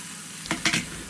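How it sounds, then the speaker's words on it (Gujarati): Cauliflower and tomatoes cooking on a low gas flame, a soft sizzle in a covered pan broken by two or three quick scraping bursts within about a second, with no voices. "ઢાંકીને 5 મિનિટ સુધી ધીમા ગેસની ફ્લેમ પર કૂક થવા દેવાનું છે"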